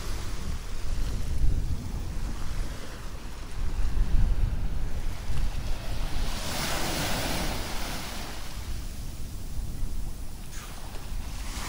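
Sea waves wash onto the sandy beach at Santa Ponsa, Mallorca, a steady broadband surf with swells building and breaking around the middle, close by, under gusty wind buffeting the microphone, with no talking.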